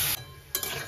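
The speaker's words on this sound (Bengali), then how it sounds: "হালকা হলুদ দিয়ে আলুটা ভেজে নেব" Potatoes frying with turmeric in a pan in a home kitchen, heard as a close sizzling hiss in two bursts broken by a short quieter gap, with light stirring.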